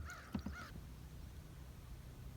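A single crow gives a couple of short harsh caws, faint and distant, followed by quiet outdoor ambience.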